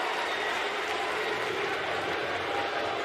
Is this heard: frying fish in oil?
no